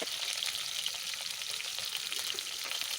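Shrimp frying in hot oil with already-fried onions, a steady, close, dense sizzle that holds evenly throughout with no talking.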